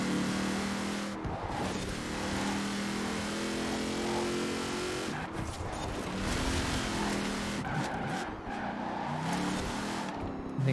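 A Koenigsegg Jesko races in Forza Horizon 4, its engine droning loud and near, revving and shifting through several accelerations over about ten seconds with no voices.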